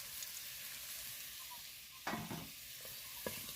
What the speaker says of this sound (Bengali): আলুগুলো প্রায় ভাজা হয়ে এসছে আমি তুলে নেবো